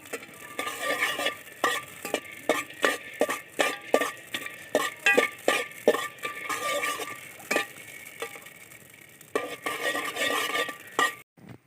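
Green peppercorns are stirred and heated in a pan, a utensil scraping in quick rhythmic strokes with light clinks over a faint sizzle, pausing briefly before the scraping resumes.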